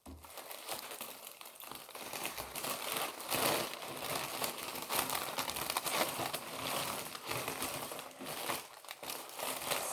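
Foil wrapper on a cheap grocery item crinkles and rustles steadily and close up for the whole stretch, a dense crackling texture with brief louder crunches and no talking.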